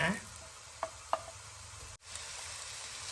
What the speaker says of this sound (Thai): พอลาก็จะผัด หัวหอมก่อนนะคะ แล้วก็เบคอนเข้าด้วยกันนะคะ